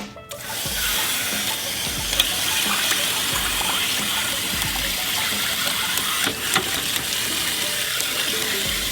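Water gushes out in a loud, continuous rushing spray as an RV hot water heater tank is flushed of sediment, with no pause.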